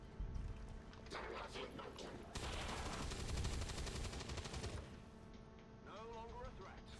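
Gunfire in the turn-based strategy game XCOM 2, played on Legendary Ironman: a dense burst of shots fills the middle of the clip, loud and sustained for a couple of seconds, with game sounds before and after.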